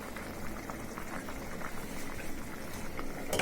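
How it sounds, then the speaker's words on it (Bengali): Red lentils (masoor dal) cooking with potatoes in a pot on the stove, coming to a boil for mixed greens. A steady, close bubbling and churning runs throughout, with a brief sharper splash near the end. "মিশালি শাক রান্না করার জন্য ডালও ফুটে আসছে"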